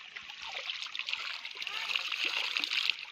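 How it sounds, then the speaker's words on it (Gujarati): Water trickles and gurgles steadily over rocks, a soft continuous babble of a small flowing hill stream in a forest, fairly faint and close. "આ ચાલુ પાણી કહેવાય એટલે ચોખ્ખું પાણી છે"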